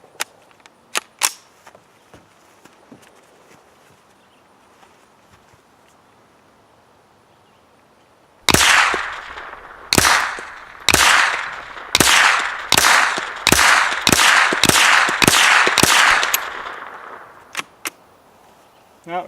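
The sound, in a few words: Ruger 10/22 rifle with Magpul Hunter X-22 stock firing rounds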